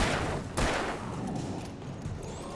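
Gunfire in the game Alan Wake Remastered: a dense, rumbling volley of shots with a sharp crack near the start, loud and continuous, with faint higher tones over the top.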